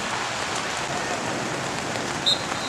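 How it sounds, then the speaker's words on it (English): Heavy rain pours steadily over an outdoor youth lacrosse field, a dense even hiss with no pauses and no voices. "The rain is back in full force here."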